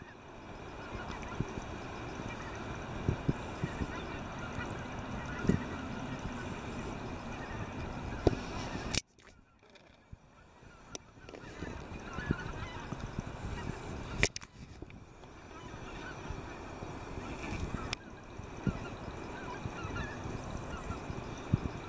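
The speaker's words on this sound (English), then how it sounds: "More birds going to the south." Honking migrating geese call repeatedly overhead against a steady wash of wind or surf on a winter beach, a few loud close honks standing out with brief quiet gaps between.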